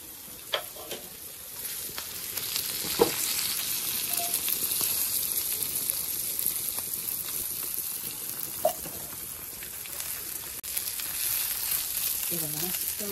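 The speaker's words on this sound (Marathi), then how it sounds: "ते बघा, चुरचुरी जशी मासे भाजली" Fresh bangda mackerel fries on a wood-fired clay stove in a Konkan village kitchen, giving a steady, fairly quiet crackling sizzle throughout with a few sharper pops.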